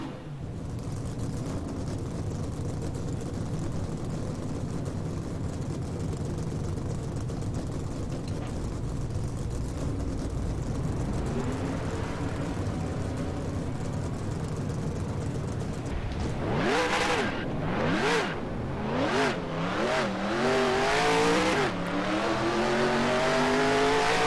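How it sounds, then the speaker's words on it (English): Race car engines fire up on the grid in the NR2003 NASCAR racing game at Daytona, a low rumbling field of motors that swells into loud, rising revs and sweeping roars. "Drivers, start your engines."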